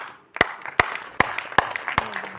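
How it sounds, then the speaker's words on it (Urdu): An audience at an Urdu epic poetry session claps in a slow, even rhythm of about five sharp, close claps, with a soft murmur of the room between them. "یہ موقع تالی بجانے کا ہرگز نہیں ہے"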